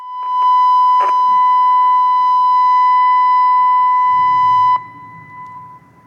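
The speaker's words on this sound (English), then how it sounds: "Early ATI sirens made that sound." A loud, steady electronic ATI siren tone holds one 1000 Hz pitch for several seconds, then cuts off, leaving a low rumbling background.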